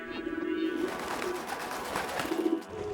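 Pigeons cooing nearby, soft repeated low throaty coos in short bursts over quiet outdoor background noise.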